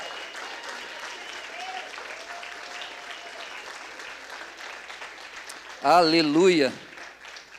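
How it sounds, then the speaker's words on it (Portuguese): A Pentecostal church congregation applauds with steady, dense clapping throughout, and near the end a voice briefly rises above it. "Você pode aplaudir a Jesus?"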